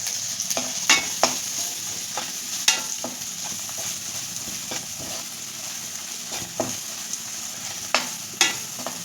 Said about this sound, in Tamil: ஓரளவுக்கு மசாலா நல்லா வதங்கிருச்சு